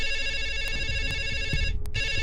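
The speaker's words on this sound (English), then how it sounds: "Ringing the police department." A telephone rings with steady, bright electronic tones that continue almost throughout, briefly cutting out near the end before resuming, clear and close with no talking.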